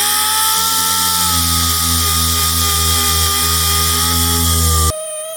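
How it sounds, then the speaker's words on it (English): A power sander works surface rust off the body of an XC Ford Falcon project car. It gives a loud, steady motor whine with a grinding rasp that runs for about five seconds, then cuts off abruptly. "I'm going to sand away all the surface rust that I can see"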